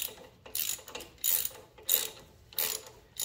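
A socket ratchet clicks in four short, quiet bursts while unscrewing the oil cap on a 1984 Yamaha YTM225 all-terrain three-wheeler.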